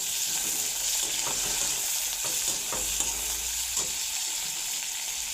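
Onions and tomato sizzle steadily in a hot pan, with a continuous frying hiss broken by a few scraping stirs, close and fairly loud with no talking.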